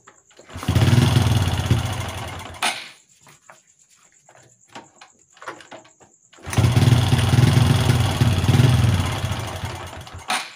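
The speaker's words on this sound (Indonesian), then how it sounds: "kita coba starter kembali motor ini apakah motor ini menyala dengan normal atau hidup dengan normal" A motorcycle with a damaged spark plug has its starter cranked twice in loud, near bursts. Between the bursts come a few weak sputters and clicks, and the engine never settles into a run.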